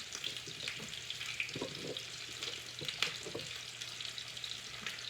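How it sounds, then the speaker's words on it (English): Quiet sizzle of onions in a pan, a soft continuous frying crackle with a few louder pops and clinks. "the onions are sizzling over here"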